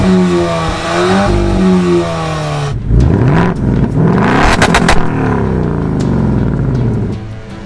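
A Volkswagen Golf R and a Ford Mustang launch in a drag race. Loud engine revving rises in pitch, then sharp gear-shift breaks and roaring acceleration follow, heard up close with no talking.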